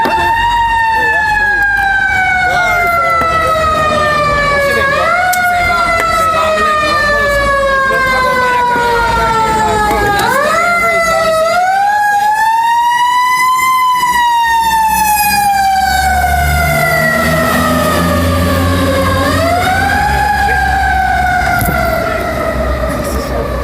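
A fire truck siren wails loud and steady, its pitch sweeping up and down in long cycles as the truck passes close by for over twenty seconds, with faint talk underneath.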